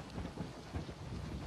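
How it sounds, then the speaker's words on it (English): A thunderstorm rumbles with low rolling thunder over a continuous wash of steady rain, heard alone with no voices. "We couldn't get out because of the storm."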